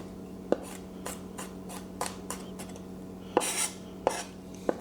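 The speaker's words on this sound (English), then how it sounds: "And then we just chop that together like that. Slowly first, until you break it down." Knife chopping food on a board for a homemade Irish spice bag, with a series of separate sharp chops spaced irregularly, close and moderately loud, over a steady low background hum.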